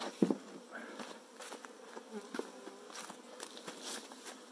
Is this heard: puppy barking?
no